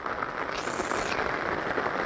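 Heavy monsoon rain falls in the Konkan, a dense, steady hiss of drops on surfaces close by that holds at an even level throughout, with no voices.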